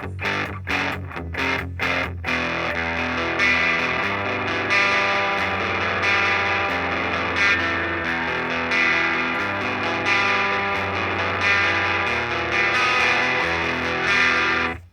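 Electric guitar played through a Line6 Spider II 2x12 75-watt amp on its twang setting: a few sharp muted picks open, then ringing strummed chords with an echoey, chorus-like shimmer, loud and unbroken, with no talk.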